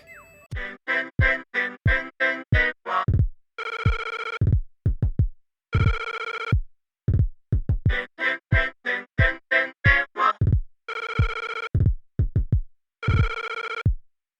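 Remade theme from the video game Zelda: Link's Awakening, a bright, bouncy chiptune-style melody of short staccato notes punctuated by deep thumping bass hits, played alone and loud throughout.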